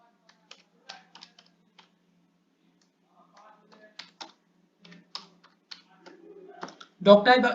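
HTML code is typed on a computer keyboard in quiet bursts of light, scattered key clicks, followed by a voice speaking briefly at the end.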